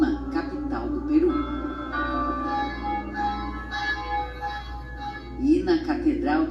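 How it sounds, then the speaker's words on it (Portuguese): Church bells ring in Lima, Peru, their tones sounding beneath a voice talking over them for most of the stretch. "igrejas também badalaram em Lima, capital do Peru."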